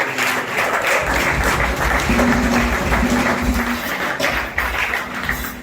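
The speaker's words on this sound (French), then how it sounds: "Est-ce qu'on peut acclamer encore très fort?" A church congregation at a pastor's anniversary service applauds and cheers loudly and continuously, a dense wash of clapping with voices mixed in and a sustained tone running beneath.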